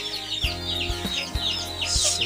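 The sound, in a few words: chicks cheeping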